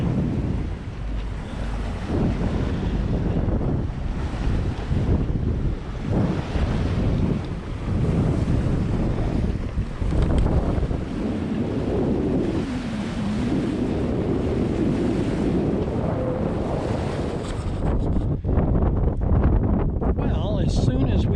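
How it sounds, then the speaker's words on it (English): Steady roar of wind gusting up to 18 knots buffeting the microphone over rushing water and surf near Lopez Island, loud and continuous throughout, with brief rattles near the end. "the wind gusted up to 18 knots"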